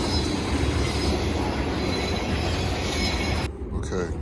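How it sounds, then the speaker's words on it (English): A train passes close by, a loud continuous rumble of railcars with high metallic wheel squeal, cutting off abruptly near the end as the last car clears. "Forgot how cool it is to just look at trains close up."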